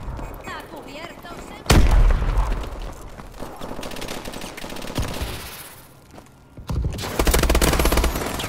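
Heavy automatic gunfire with sharp booming bursts in Call of Duty: Advanced Warfare, loud and close, rattling on and off throughout, with a shouted voice over the chaos.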